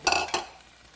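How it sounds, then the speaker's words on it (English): Onions land in hot ghee and oil and are stirred, giving two quick bursts of scraping sizzle within a second that fade to a faint hiss, close and alone. "Let's go ahead and get those onions right into that lovely ghee and oil."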